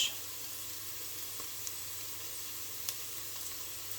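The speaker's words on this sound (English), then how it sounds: "As the onions start to soften, we're going to add the cardamom pod seeds and a pinch of salt." Onions frying with cardamom seeds and salt, a soft, steady sizzle with faint occasional ticks of stirring, close and continuous.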